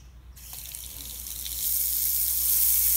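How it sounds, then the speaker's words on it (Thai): Tap water gushes into a sink basin to spin a small DIY water turbine generator, a steady broadband rush that starts abruptly and grows louder and fuller partway through, with no talking. "ลองเปิดน้ำดูนะครับ"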